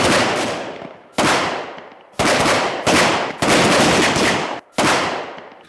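Army commando training with weapons being fired: loud, close bursts of gunfire crack out about six times in an uneven rhythm, each blast trailing off in a long echoing decay, with no voices.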